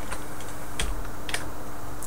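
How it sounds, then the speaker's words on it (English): Computer keyboard keys are pressed during game development, a few light, scattered clicks close by over a steady background hum. "So the character, you press right on your keyboard."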